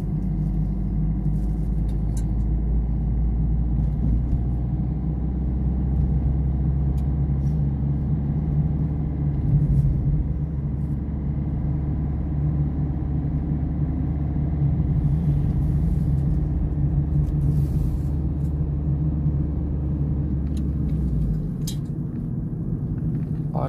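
A car on a driving-test route in Afyonkarahisar, Turkey, drives steadily over speed bumps while shifting gears, with a continuous low engine and road rumble heard from inside the cabin and a voice talking over it.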